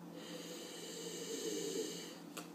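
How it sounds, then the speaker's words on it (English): A person sniffs red wine from a glass, a soft, steady inhalation heard close and quiet, ending with a faint click. "Let's take a little sniff here."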